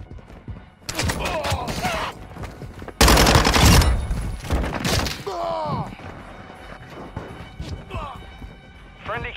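Call of Duty Modern Warfare 2 gunfire, with sharp bursts of automatic shots and loud cracks in clusters, the heaviest volley near the middle, mixed with radio-style voice callouts and battlefield noise.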